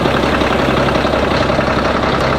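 A Caterpillar D9H bulldozer's heavy diesel engine idles loudly and steadily nearby, a constant rumbling drone with a rough mechanical rattle running throughout.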